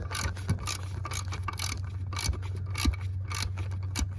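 A ratchet with an 18 mm deep socket loosens a lock nut on a 1996–2002 Toyota 4Runner, giving a quick series of close, sharp ratcheting clicks in uneven bursts over a low steady hum.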